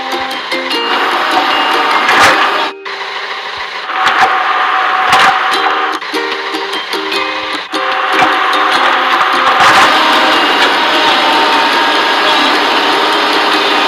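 Excavator in a truck assembly video game, with electronic engine drone, repeated beeping tones and cartoon digging effects, loud and close, broken by short pauses.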